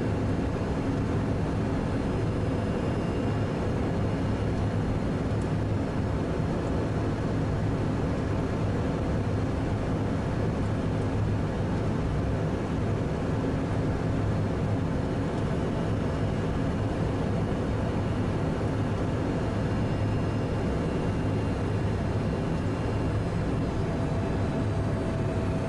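A Cessna Citation jet on final approach to land on runway 30 in calm winds, heard as a steady, loud, continuous engine roar and rumble with no break for the whole stretch.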